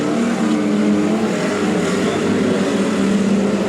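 TQ midget race cars lapping a track at a New Zealand championship qualifying session, a steady loud engine roar with no break, several cars droning and buzzing together as the pack runs past.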